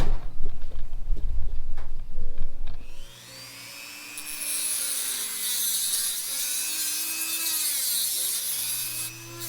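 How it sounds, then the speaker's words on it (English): A Dremel rotary tool with a small metal cutting disc slices through the grille of a 2012 Mazdaspeed 3, giving a loud, sustained high-pitched whine with wavering pitch that follows a few seconds of low clattering handling noise. "It's a metal blade, tiny little disc, and I think it's going to work great cutting right through this."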